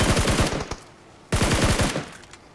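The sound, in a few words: gunfire giving cover fire in a video game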